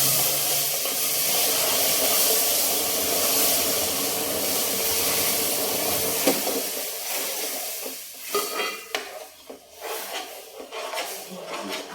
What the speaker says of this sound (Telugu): ఆవిరి ముఖాన్ని కొడుతుంది